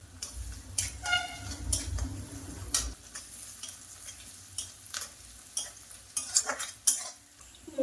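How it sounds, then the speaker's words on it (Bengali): Onions frying in a pan with a steady sizzle, then chopped ginger going in amid clinks and scrapes of a spoon stirring against the pan; cooking nearby without speech. "পেঁয়াজকে বেশি ভাজবো না, হালকা করে ভেজে নিয়েছি। এবার আদা কুচি দেব"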